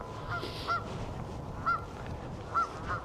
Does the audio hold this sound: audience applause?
no